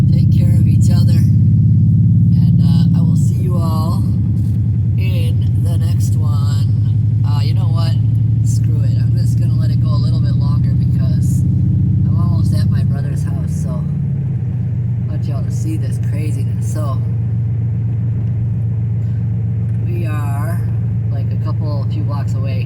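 A loud car drives along with a heavy, steady low engine rumble that shifts slightly in pitch, close and continuous, while a person talks over it throughout.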